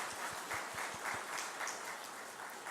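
A church congregation gives warm applause for the children, a moderately loud, even patter of many hands with a few louder low thumps near the start.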